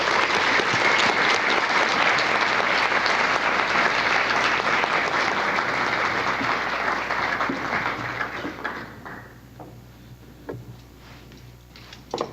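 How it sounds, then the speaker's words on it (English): Dense, sustained audience applause fills a forum hall to welcome a guest speaker, staying loud and full for several seconds before thinning into scattered claps and fading out. "help me welcome Dr. Terrell Strayhorn."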